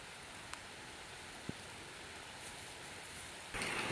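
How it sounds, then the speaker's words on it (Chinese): Heavy rain pouring down over a vegetable plot, a continuous faint wash of hiss with a couple of isolated drips and a brief swell in intensity near the end. "下雨天这么好的下雨天"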